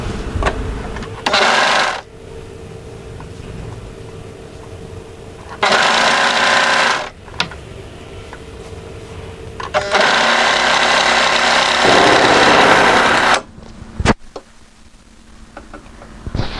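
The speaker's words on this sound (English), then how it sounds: "we're going to first of all sew the centre back seam in place" A sewing machine stitching the straight centre back seam of a pleated maxi wrap dress, running in several loud bursts of a few seconds each, separated by quieter pauses, close up with no talk.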